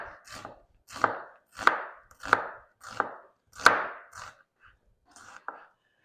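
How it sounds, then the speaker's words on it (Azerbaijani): Onion being chopped into half-moon slices on a board, seven or eight distinct knife chops in a steady rhythm, close and clear, with no talk. "İndi isə biz soğanımızı doğrayaq. Halqavari şəkildə,"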